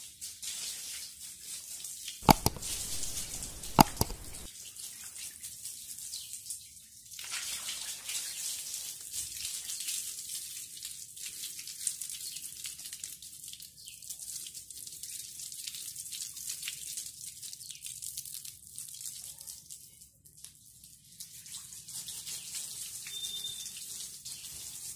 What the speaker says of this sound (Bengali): বন্ধুরা, আমি পাম্প চালিয়ে মোটর দিয়ে ট্যাঙ্কিকে ধুয়ে ফেলবো।